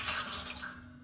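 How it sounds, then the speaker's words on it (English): Hot water splashes and pours into a container set in an oven beside rising bread dough, a short, close, steady watery rush with no voices. "So put some boiling water in there."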